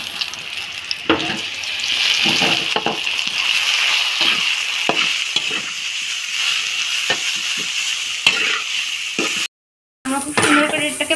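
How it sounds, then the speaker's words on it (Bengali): Steady, close oil sizzle and crackle from a frying pan as taro leaves are fried for kochu pata bata, continuous with occasional sharper pops and a brief dropout near the end. "তারপর এই তেলের স্বাদটাকে খুব সুন্দর করে ভেজে নেব"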